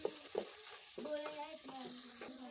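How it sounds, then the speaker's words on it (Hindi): Chili powders, including Kashmiri chili, fry and get mixed in a pot for Indian biryani. A soft, steady sizzle runs close by under a few clinks and scrapes from the spoon, with faint tonal squeaks and no speech. "इसको अच्छे तरीके से इस तरह मिक्स करेंगे और भून लेंगे।"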